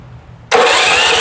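A 212cc engine on a homemade tricycle starts abruptly after quiet background, bursting into a loud, steady, broadband running roar right up close.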